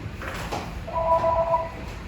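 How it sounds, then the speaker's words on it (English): A telephone rings briefly, its electronic two-tone trill standing out over a low steady background hum. "The phone is ringing."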